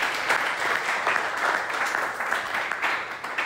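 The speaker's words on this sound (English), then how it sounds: "Let's give them one more round of applause." An audience applauding at a lunch-and-learn gathering, a steady wash of many hands clapping, moderately loud and continuous throughout.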